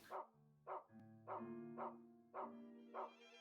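A dog in a video game barks six times in an even, spaced rhythm, each bark short and sharp over a faint steady tonal hum.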